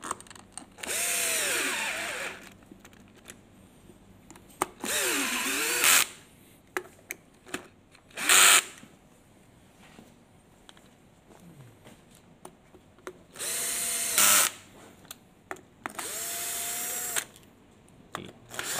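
Power drill driving the original screws back into an e-scooter, several short whirring bursts of a second or two each, separated by pauses with light handling clicks, close and fairly loud.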